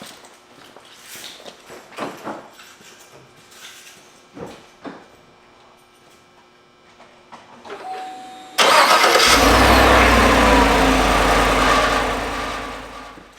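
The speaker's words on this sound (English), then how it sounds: "the truck works, it turned on" After several seconds of quiet clicks and handling noises, a 2014-era Chevy Silverado or GMC Sierra truck's engine cranks, fires and settles into a loud, steady running rumble.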